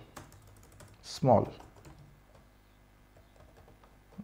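A handful of faint, close keystrokes on a computer keyboard while HTML code is written, with one heavier thump early and soft scattered clicks after.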